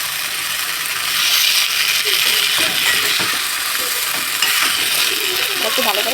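Chicken feet coated in turmeric and salt fry in a wok with a steady, loud sizzle, broken by scraping and clinking as they are stirred, close and continuous.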